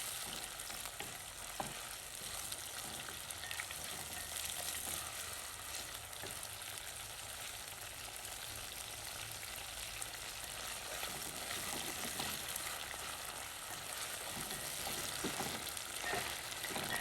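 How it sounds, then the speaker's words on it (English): Vegetables sauté in a pot for Jamaican callaloo with dumpling and pumpkin, giving a steady, close frying sizzle with occasional stirring scrapes, and no talking. "saute them a bit before putting the callaloo."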